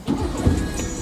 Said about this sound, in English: You can start your car